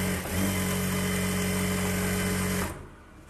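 A sewing machine stitches the lining of a Bharatanatyam dance dress in a steady mechanical hum, close and even, stopping abruptly near the end.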